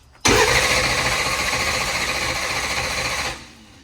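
A turbocharged small-block Ford V8 in a ProMod Mustang is cranked over by the starter for about three seconds, a loud, rapid whirring chug that starts abruptly and cuts off cleanly without firing.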